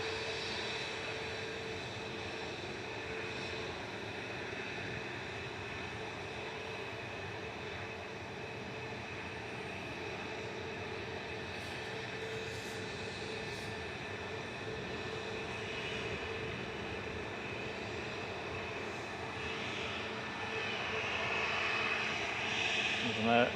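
An Aurigny airliner from Guernsey arriving at Manchester Airport, a steady distant engine drone that rises slightly toward the end.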